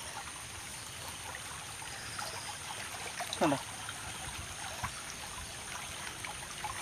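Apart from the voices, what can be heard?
flowing stream water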